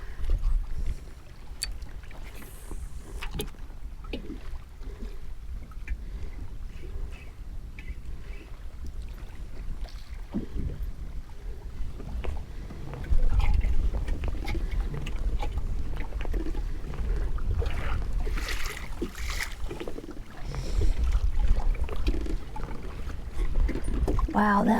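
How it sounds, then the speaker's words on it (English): Wind blows outdoors near water, a continuous low buffeting rumble across the microphone that grows stronger in gusts partway through, with faint splashing and indistinct background sounds. "Wow, that wind."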